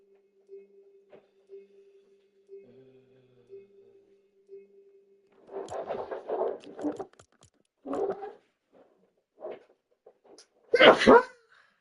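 A dog sneezes indoors at a home stream, several short sharp snorts in separate bursts after a quiet stretch with a faint steady tone, with a person talking softly around them.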